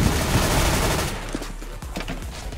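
A burst of rapid gunfire in a Counter-Strike: Global Offensive match, loud at first and then thinning into scattered shots and clatter.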